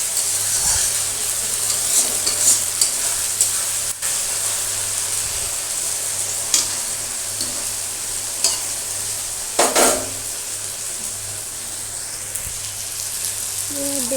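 Chopped tomato frying in a pan on a lowered flame, with a steady close sizzle running throughout and intermittent scraping knocks of a spoon stirring, a few louder clatters, no talking.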